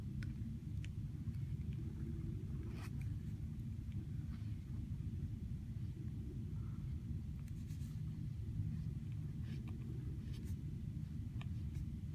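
A brush pen drags across paper writing calligraphic script, faint intermittent scratchy strokes over a constant low rumbling background hum, with no voice present.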